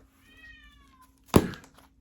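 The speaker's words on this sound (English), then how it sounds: "That's my cat. Wants to get out of the back." A house cat meows once with a clear rising-falling harmonic cry, then a sharp loud thump follows, heard indoors with a steady low hum in the background.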